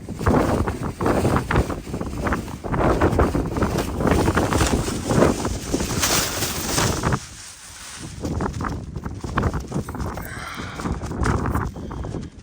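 Strong wind blows dust across open ground, a loud, gusty roar buffeting the microphone with rumbling bursts that ease briefly before swelling again.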